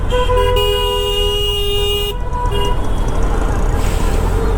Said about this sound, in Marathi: खूप ट्रॅफिक लागलेली आहे